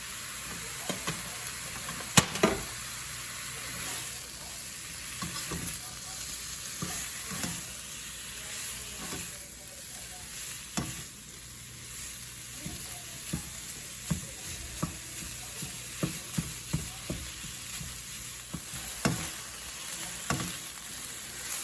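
Ground beef for soft shell tacos browns in a pan under a steady, hissing sizzle, broken by irregular taps and scrapes as it is stirred and broken up.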